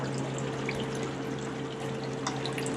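Water steadily drains from a brewing vessel at a brewery as the level drops toward the heating elements, a continuous even rush over a low electrical hum.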